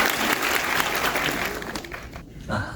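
Audience applause at a Junji Ito talk and exhibition event in İzmir, a steady burst of clapping from a packed room that holds for a few seconds before tapering off.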